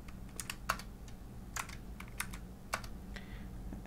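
Code being typed on a computer keyboard, a quiet, irregular patter of key clicks and taps close by, over a low steady background hum.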